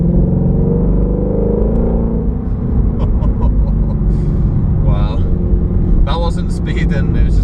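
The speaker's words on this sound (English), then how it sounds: "So the car was just making a lovely noise, so I had to just share that with you." Exhaust of a stock Ford Shelby GT350 at partial throttle while driving on a snowy road, a steady low rumble that swells slightly, with someone talking over it throughout.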